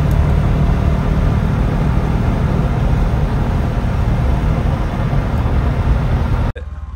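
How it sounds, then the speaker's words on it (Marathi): An auto rickshaw carries passengers on the way to Khavane. Its engine and road noise form a loud, steady, close rumble that runs without a break and then cuts off abruptly just before the end. "आज रिक्षाचा प्रवास असा."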